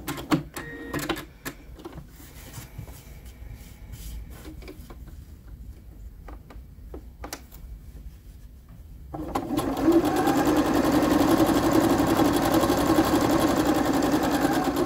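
Backstitching a child's dress, a sewing machine gives several short, stuttering bursts and clicks over a quiet room, then settles into a loud, continuous whirring run that lasts to the end.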